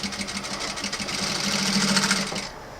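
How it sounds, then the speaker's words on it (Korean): An MS 9800-K electronic lockstitch sewing machine with automatic thread trimmer runs under foot-pedal control, stitching in a steady close whirring hum with a rapid mechanical chatter that builds slightly before stopping near the end. "발판을 앞으로 밟게 되면 박음질,"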